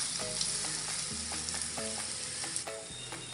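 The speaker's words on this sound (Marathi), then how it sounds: "आपण याला चांगलं परतून घेऊया 2 मिनिटं." Boiled potato filling for Mumbai-style vada pav sautés in a hot pan, an even close sizzle with repeated spoon scrapes and taps against the pan at irregular intervals, no talking.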